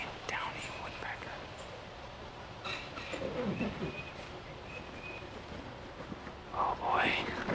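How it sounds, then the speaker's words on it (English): A downy woodpecker calls in a dense forest with a short, sharp burst near the end, after quiet rustling and faint whispering. "I heard the Downy woodpecker"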